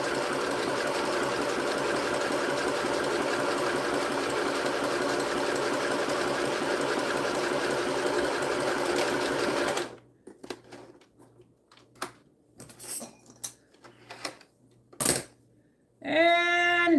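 Sewing machine running a test stitch, a close, steady mechanical whir for about ten seconds that stops abruptly, followed by quieter handling clicks and a brief burst of motor noise near the end.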